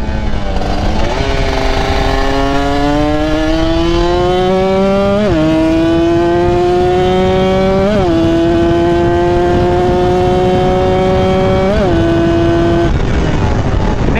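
A tuned motorcycle set up for daily riding is ridden hard, its engine revving loudly and climbing in pitch through each gear, with four clear shifts that each drop the pitch before it rises again.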